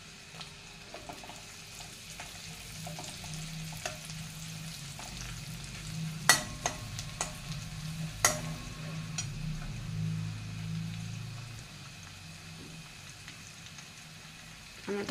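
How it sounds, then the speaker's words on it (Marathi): Chili and onion frying in a pan for dal fry, with a steady close sizzle under occasional scraping stirs and a couple of sharp clanks of the spoon against the pan. "आता आपण त्यात मिरची आणि कांदा टाकणार आहोत।"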